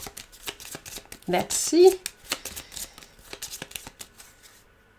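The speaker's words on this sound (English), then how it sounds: "So shuffling time." A deck of cards is shuffled for the Aeon's End War Eternal board game, a quick series of crisp riffling flicks and taps, close, with a person speaking briefly over it.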